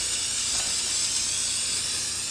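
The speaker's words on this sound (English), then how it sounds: "Give them a good spray." A continuous spray of cooking oil mists onto a muffin baking pan, a steady close hiss lasting a couple of seconds with no talking.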